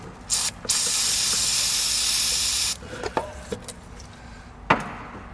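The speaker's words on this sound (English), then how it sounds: "This here is electrical contact cleaner. It's specifically designed to do this." A long, loud hiss of electrical contact cleaner sprayed onto corroded terminals on a 1998 Honda Civic, preceded by a brief test spurt and followed by a few light clicks and taps.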